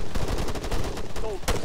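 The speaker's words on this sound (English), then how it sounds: "I just got shot at." Gunfire in the video game Arma 3, a rapid burst of sharp close shots followed by a louder crack near the end, with brief voices in between.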